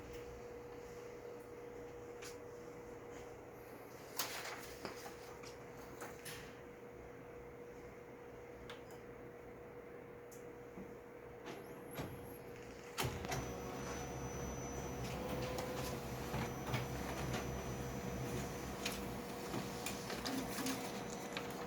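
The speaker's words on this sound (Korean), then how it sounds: "그 프린터 상태를 좀 보여드릴 수 있게 출력을 걸어보도 실제 이미지 출력을 걸어보도록 하겠습니다" A Fuji Xerox DocuCentre IV C2263 colour copier prints a large image, a steady mechanical whir with a constant tone, scattered clicks and clunks, then a louder, busier running sound for the second half, close by.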